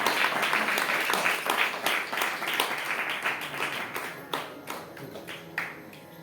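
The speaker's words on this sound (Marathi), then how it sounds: "टाळ्या वाजत राहू देत" Audience clapping at a Marathi hymn-singing event, steady applause that thins out into scattered, separate claps toward the end, heard from a moderate distance.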